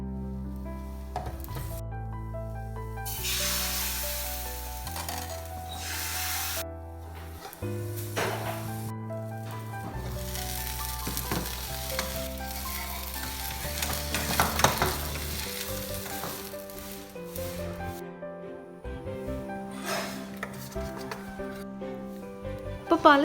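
Neer dosa batter sizzles on a hot appam pan in a home kitchen, a soft frying hiss broken by scraping and clinking of utensils, with intermittent tonal background sounds.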